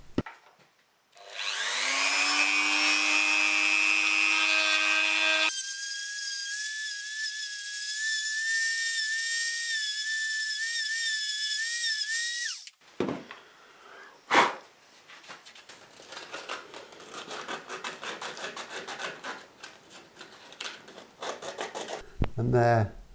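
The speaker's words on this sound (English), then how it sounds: "I think I'm just going to try and get a small sanding drum on the Dremel and see if I can clean it up with that" Dremel rotary tool with a small sanding drum cleaning up a wooden guitar headstock veneer, a loud, steady high-pitched whine that holds for several seconds, shifts pitch partway through, then cuts off, leaving short scraping touches.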